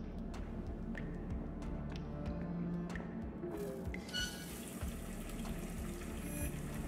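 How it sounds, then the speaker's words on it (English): Water runs from a faucet in the video game Whispers of a Machine, a soft steady trickle beneath scattered clicks and brief game sounds, with a brighter burst of splashing partway through. "Oh, there's a faucet."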